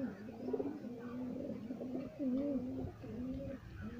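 A pigeon coos in soft, repeated low rolling calls while being held for eye drops, each coo close and clear over a quiet background.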